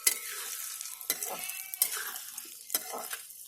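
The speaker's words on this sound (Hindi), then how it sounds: "तो दोस्तों दूसरी बार एक गोंद को डाल के फ्राई कर रही हैं।" Pieces of edible gum (gond) fry in a pan, a soft sizzle under sharp clinks and scrapes of a utensil against the metal at irregular intervals.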